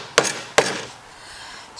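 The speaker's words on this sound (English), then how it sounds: "Hammer." A hammer strikes twice in quick succession while adjusting the table of a PrintNC CNC machine build. Each is a sharp, close knock, followed by a faint quieter tap.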